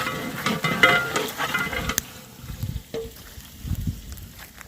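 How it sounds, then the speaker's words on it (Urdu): Onions sizzle in hot oil while being tempered, a crackling, spitting fry with stirring, louder at first and then settling into softer scattered pops. "پیاز کو استاد تڑکا لگ گیا ہے"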